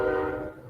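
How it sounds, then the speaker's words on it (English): A train horn sounds in one sustained, steady blast, loud and close, with no talking over it. "I can hear the whistle."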